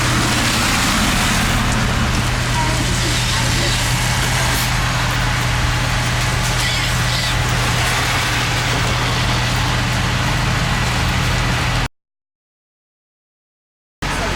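A large bus engine idles in Brighton with a steady low rumble and hum, loud and close, continuing for about twelve seconds before cutting to silence.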